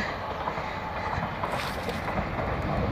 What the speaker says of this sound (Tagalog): Ayun, may tren.